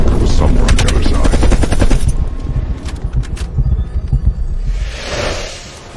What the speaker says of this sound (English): you followed the road right toward the sound of gunfire